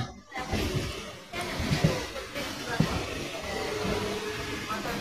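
A Naihati local train pulls out of Majherhat station with a continuous low rumble and hiss, marked by occasional clanks and thumps as the carriages roll.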